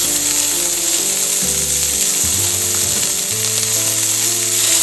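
A burger patty and onions hit a smoking-hot pan, giving a loud continuous sizzling hiss that runs the whole time beneath steady background music.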